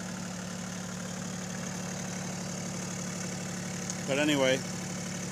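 A Bombardier MPV-20 tractor engine idling, a steady low rumble with an even mechanical hum that holds throughout, while someone talks briefly near the end.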